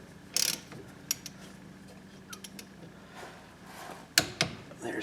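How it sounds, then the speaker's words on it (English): Torque wrench clicking and ratcheting on 14 mm brake caliper pins during rear brake work on a front-wheel-drive Toyota, a few sharp metallic clicks spread through the clip, loudest near the end, over a quiet background. "now we'll torque these pins to 32 foot-pounds"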